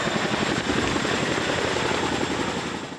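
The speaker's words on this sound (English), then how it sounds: "this is an amazing fleet of 3 heli-tankers that help us during brush season." A firefighting heli-tanker of the Orange County Fire Authority flying nearby, a steady loud rotor and engine roar with fast blade chop, continuous throughout and easing slightly at the end.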